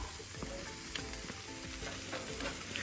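Garlic parmesan chicken wings frying on an outdoor grill give a steady, close crackling sizzle throughout, with a few light clicks and scrapes and no talking.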